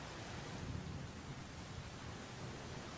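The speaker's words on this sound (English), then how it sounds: "to the rhythmic rain" Steady, even hiss of rain falling outside a window, a soft, unbroken wash of broadband noise with a low rumble underneath, faint and constant with no voices.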